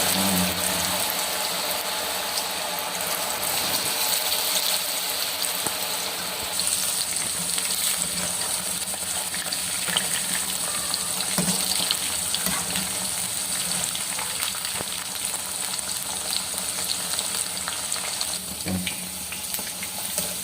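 Potato fries dropped into hot oil: a steady, dense, hissing sizzle close by that carries on evenly throughout with small crackles and occasional stirring clinks, no voices.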